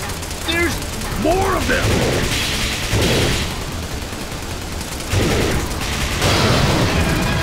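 Sustained gunfire in the 2014 arcade rail shooter Lost Land Adventure, loud and continuous throughout, with swelling bursts and in-game effects. A voice shouts over the shooting.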